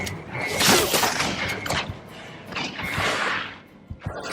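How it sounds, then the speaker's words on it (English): Shotgun blasts in the Aliens: Colonial Marines game fire in loud, broad bursts, with two heavy volleys about two seconds apart and short sharp reports trailing near the end, with no talk over them. "the range on this shotgun is hilarious"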